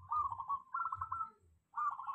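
A perkutut, or zebra dove, cooing close by in three rhythmic trilling phrases separated by short pauses, clear against a quiet low background.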